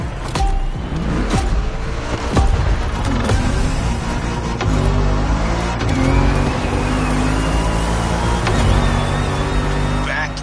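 In The Crew Motorfest racing game, a Ford Mustang GT engine roars steadily and loudly, shifting pitch as it accelerates, with a voice talking over it throughout.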